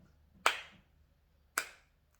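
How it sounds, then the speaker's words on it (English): Two slow, isolated hand claps spaced about a second apart, close and fairly quiet, each a sharp single smack with a short decay, in an otherwise quiet setting. "Little golf clap for the Vikings today"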